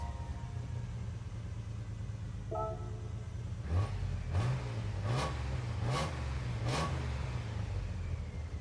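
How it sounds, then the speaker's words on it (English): Engine of a Nissan Skyline in Gran Turismo 7 revving repeatedly, with about five sharp rising rev bursts over a steady low rumble, loud and close with no talk. "That engine does sound pretty good."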